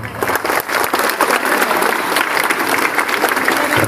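A crowd of polytechnic college students claps together in celebration at an awareness event, dense sustained applause filling the hall loudly and steadily throughout.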